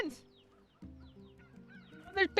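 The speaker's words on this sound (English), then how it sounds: "Chickens!" Chickens in the video game NieR Replicant give soft clucks and squawks, with sparse calls at first and sharper, louder squawks near the end, set over quiet game music.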